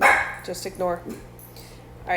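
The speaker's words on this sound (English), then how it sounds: "Okay, so if you hear my dogs barking," Several dogs barking indoors in short, sharp bursts close by, mixed with a person talking over them.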